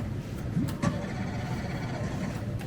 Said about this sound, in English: Start the car, hold on.